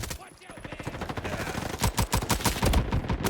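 Guns fire in the Roblox game Frontlines, including a Glock, as a dense stream of rapid shots that grows louder and busier toward the end.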